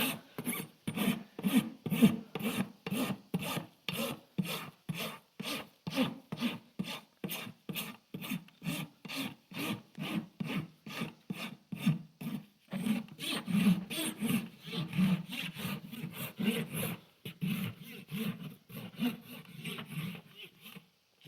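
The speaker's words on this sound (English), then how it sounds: "after I'm done rasping and see how that hoof matches" Farrier rasping a horse's hoof, close, regular rough scraping strokes in a steady back-and-forth rhythm, about two strokes per second, repeated for around twenty seconds with brief pauses and no talk.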